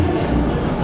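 Steady low rumble of a Mexico City metro train in motion, a dense continuous roar filling the space with no clear voices.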